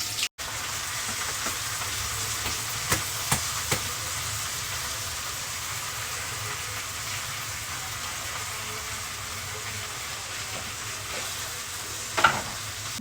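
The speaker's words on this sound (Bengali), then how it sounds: "ঘির মধ্যে এখন দিয়ে দিব পেঁয়াজ কুচি। পেঁয়াজগুলোকে একটু বেরেস্তা করে নিব।" Chopped onions fry in ghee, browning until crisp, with a steady, even sizzle throughout. A few faint clicks of stirring break through near the start and a louder clatter comes near the end, with no voices.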